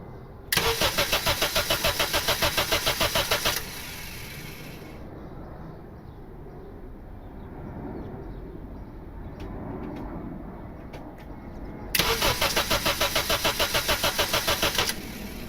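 Honda Civic with an R18 engine and turbo build cranks in a long rhythmic burst of starter pulses, drops to a low running rumble, then cranks again in another rapid repeated burst, loud and close with no talk.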